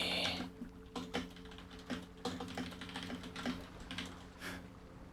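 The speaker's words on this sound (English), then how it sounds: "The sound of keyboards in the morning." Fingers tap at a computer keyboard in a quick, uneven patter of clicks over a low steady hum, close and alone with no talking.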